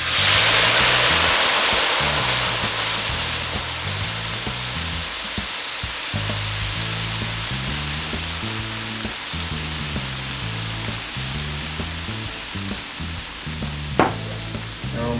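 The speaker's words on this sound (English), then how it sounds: "now I'm going to do what I did last time and reduce it in this super hot wok" Great Lakes Edmund Fitzgerald Porter reduces in a super hot wok, giving a loud, steady hiss of sizzling liquid over a low musical background, with one sharp metallic clink near the end.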